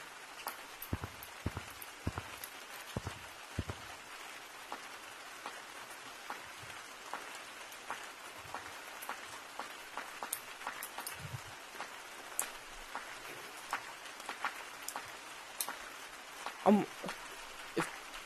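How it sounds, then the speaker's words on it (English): Steady rain patter falls across a forest map in the game Gorilla Tag, a dense hiss of scattered drops with a few sharper taps and bumps throughout, at an even moderate level. "It's raining."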